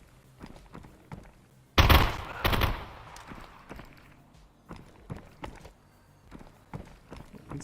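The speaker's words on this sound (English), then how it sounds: "Who the hell is shooting at me?" Gunfire rips out in the VR shooter Contractors: a loud, close burst of rapid shots, then scattered quieter reports and footstep-like thuds trailing off, with no voices.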